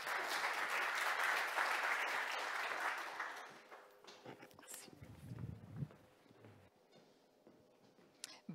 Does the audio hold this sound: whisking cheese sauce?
no